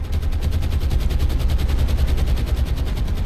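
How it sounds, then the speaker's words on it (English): Anti-aircraft guns in the War on the Sea naval game fire against incoming torpedo bombers in rapid, loud, continuous bursts of shots, close and dense, with no voices. "Intense anti-aircraft fire"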